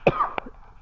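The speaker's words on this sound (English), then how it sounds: "So sorry for coughing into the mic." A single sharp cough lands close to a microphone, followed a moment later by a second shorter cough or throat-clearing burst, with nothing else around it.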